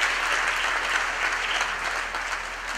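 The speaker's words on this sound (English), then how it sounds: "Can we give them a big round of applause" Sustained audience applause at a Vaal University of Technology graduation ceremony on the main campus, a dense steady clapping from a large crowd that fills the hall without pause.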